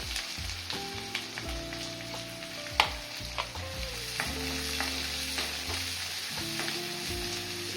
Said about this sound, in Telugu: జీలకర్ర ఉల్లిపాయలు వేసేస్తామండి